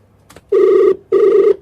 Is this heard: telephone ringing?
yes